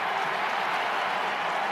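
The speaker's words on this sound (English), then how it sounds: "Listen to this crowd." A large crowd at a college football championship game between Indiana and Ohio State roars and applauds in a dense, steady wash of noise filling the stadium.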